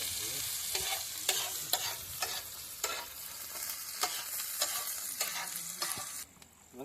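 Onions frying in a pan for Tamil-style duck curry, a steady close sizzle with repeated sharp stirring strokes and scrapes of a spoon against the pan, ending in a quieter moment.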